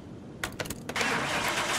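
A BMW fitted with a V12 bi-turbo engine cranks with a few quick starter bursts, then catches and settles into a loud, steady running roar close by.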